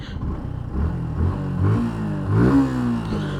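A Suzuki Gixxer Fi motorcycle engine running on fresh engine oil, heard up close as a steady rumble whose revs rise and fall in a few gentle swells.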